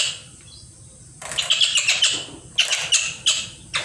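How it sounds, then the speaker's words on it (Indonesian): A kingfisher (burung tengkek) gives harsh, shrill squawking calls in several loud bursts, close by, over a low steady background hum. "Burung tengkek ini."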